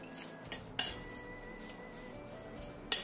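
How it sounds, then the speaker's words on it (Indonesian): A spoon scrapes and clinks in a bowl while sugar is mashed and mixed into dough, making quiet soft scraping with a few sharp utensil knocks against the bowl. "Kemudian kita becek-becek lagi sampai halus"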